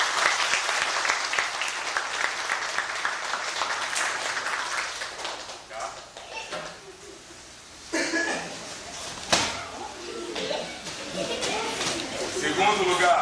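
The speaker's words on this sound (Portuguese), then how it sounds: "Vamos bater palmas, gente." Audience at a judo graduation ceremony in Acreúna, Goiás, clapping steadily and loudly throughout, with brief dips and a few voices and laughs mixed into the crowd noise.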